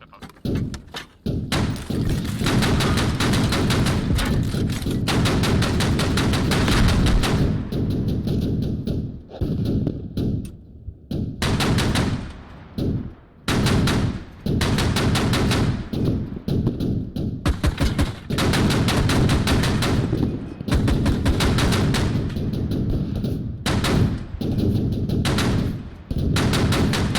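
Loud, close bursts of rapid gunfire and heavy thumping shots from weapons in the military shooter game Squad repeat almost continuously, with brief gaps between volleys.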